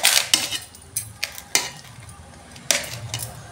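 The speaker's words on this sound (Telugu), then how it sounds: "అది చింతపండు రసం మంచిగా మిక్స్ చేసేసుకుందాం." Cooked rice being mixed with tamarind juice for pulihora, a few wet scraping strokes and sharp spoon-on-vessel clinks spaced irregularly, close and moderately loud with no talk.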